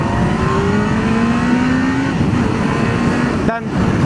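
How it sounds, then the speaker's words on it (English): A car at about 120 kph passes on a highway while the rider sits on a running Kawasaki GTR1400 motorcycle; engine drone and wind roar stay loud and steady, with a rising tone sweeping through and a brief dip near the end. "there is coming a car at 120 kph"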